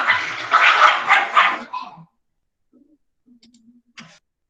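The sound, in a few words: dog barking loudly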